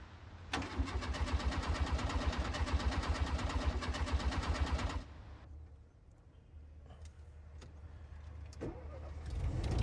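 A car engine cranks rapidly for several seconds, then the starter cuts off; afterward a low rumble continues with a few faint clicks and knocks.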